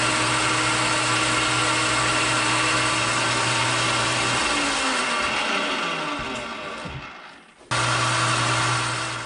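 Machine tool machining a steel axle for a 50-ton railroad jack, a loud steady motor drone with a high cutting whine that winds down and cuts out, then starts again abruptly.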